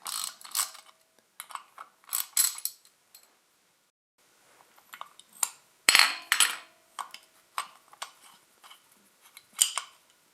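Ratchet wrench clicking in bursts while loosening bolts on a John Deere 755 compact tractor engine to free the manifold, close and fairly loud, with short pauses between runs of metallic clicks.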